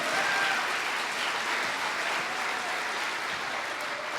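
An audience applauds at the City of Destiny awards ceremony, with dense, sustained clapping from a large crowd that fills the room evenly from start to finish.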